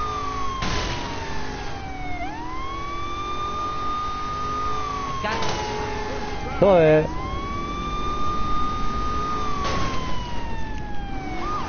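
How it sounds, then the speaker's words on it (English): Repeated wailing police sirens in the video game Saints Row 4, long rising and falling sweeps cycling over a continuous vehicle rumble, with a single brief spoken word midway. "we need sirens"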